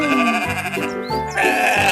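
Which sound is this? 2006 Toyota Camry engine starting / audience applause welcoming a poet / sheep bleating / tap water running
sheep bleating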